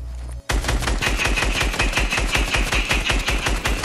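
Rapid, steady bursts of automatic gunfire from a video game shootout, loud and close, starting abruptly after a brief quiet moment and continuing without pause, with no talking over it.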